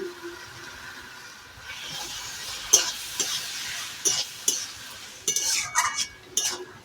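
Ghee goes into pumpkin curry in a pot over a clay stove, with a low simmering sizzle and a few sharp metal spoon scrapes and clinks as it is stirred nearby, no talking.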